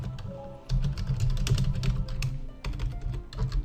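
Rapid keyboard typing, close to the microphone and clattery, with irregular bursts of keystrokes and brief pauses over a low hum.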